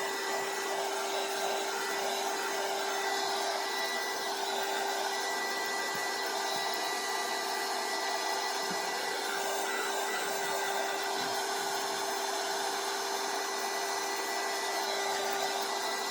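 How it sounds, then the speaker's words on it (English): A hair dryer runs steadily and loudly throughout, a constant whirring hum used to dry matte medium on a craft project, with faint clatter beneath and no talk. "It's going to be loud for just a sec. I'm just drying that matte medium."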